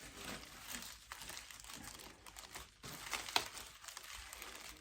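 Plastic wrap crinkling and tearing as it is pulled off a black ash Velodyne DB15 subwoofer, a steady close rustle with a few sharper crunches and no talking.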